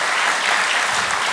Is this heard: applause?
yes